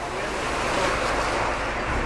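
Heavy rain pouring down at Karon beach in Phuket, a steady broadband roar of rain and surf with wind noise buffeting the microphone, loud and unbroken throughout.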